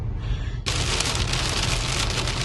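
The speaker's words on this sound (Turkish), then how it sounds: "Kapıkule'nin son 15 kilometresinde şu an aşırı çok yağmur yağıyor." Heavy rain hammers a car driving near Kapıkule, with a sudden burst of dense, roaring downpour after a quieter start, loud and continuous over the road noise.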